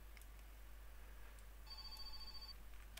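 A telephone rings in the video game My Summer Car, a faint repeated electronic trill over a steady low hum; no one talks.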